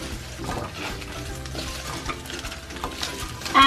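Chips, put back into a pan over lowered heat, sizzle steadily while being stirred, with scraping and clinking of a utensil against the pan and a louder clatter right at the end.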